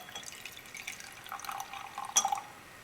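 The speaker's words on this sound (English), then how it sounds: "And let's mix it with water and see what happens." Water is poured into oleic acid, a main component of corn oil, making faint trickling and dripping sounds with a small clink of glass near the end, quiet and close.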